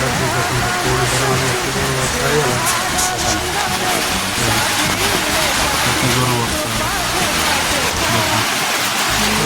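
Steady, loud roar of heavy rain pouring down, a continuous dense wash of noise throughout with no pauses.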